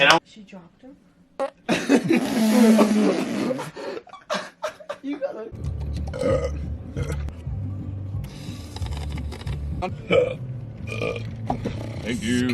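Loud, drawn-out burps from young men goofing around together, one long deep belch standing out clearly, interspersed with talk and laughter.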